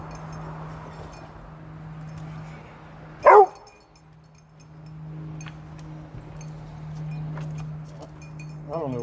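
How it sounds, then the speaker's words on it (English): Dogs bark nearby, a single sharp, loud bark cutting through a steady low hum, followed by a quieter short bark near the end. "I don't know what's wrong with these dogs"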